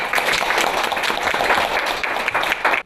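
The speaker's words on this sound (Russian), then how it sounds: "Аплодисменты!" Loud, dense applause fills a kindergarten hall at a Mother's Day event, a close, busy wash of clapping from the audience that runs for a few seconds and then cuts off.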